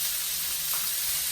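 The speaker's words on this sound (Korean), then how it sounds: "고기가 충분히 익을 동안 계속 볶아줍니다" Meat stir-fries in a pan for a Korean green bean side dish, a constant close sizzling hiss with a couple of soft stirring touches.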